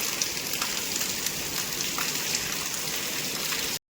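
Heavy rain falls continuously in an Indian village in Gujarat, a dense, steady hiss of drops on surfaces with no breaks, close and even throughout before ending abruptly.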